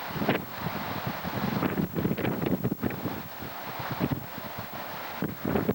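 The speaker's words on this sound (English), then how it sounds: "And boy, is it windy." Strong wind at Lake Belton buffets the microphone in loud, uneven gusts, with rushing and rumbling throughout and no voices.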